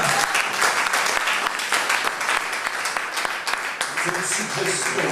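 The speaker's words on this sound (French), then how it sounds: "Acclame Jésus" A church congregation claps together for Jesus during a praise and worship service, dense sustained applause close by and loud throughout, with cheering voices mixed in.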